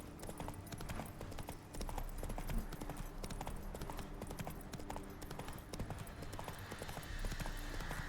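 Geralt's horse Roach in The Witcher 3 video game, hooves clip-clopping in a steady, fairly quiet rhythm over game ambience for several seconds.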